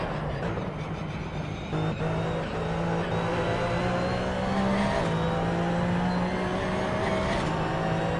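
A Porsche Cup race car in the Assetto Corsa racing game drones steadily at high revs, with brief shifts in engine pitch as it laps the track, loud and continuous with no talk.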